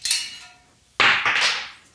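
Two sharp metallic hammer strikes about a second apart punch out a knockout on an electrical box in a shed workbench wiring job, each ringing briefly before fading, with no talking.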